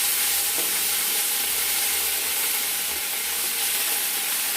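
Ginger paste sizzling in hot oil with whole cumin and a dried chilli, a loud continuous close hiss with a faint stir partway through, no voices.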